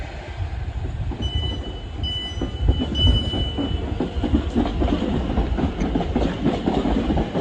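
A London Northwestern Railway Class 350 electric train runs along the track from Euston towards Harrow & Wealdstone with a rumbling roll, rhythmic wheel clatter and a faint high whine, steady and close.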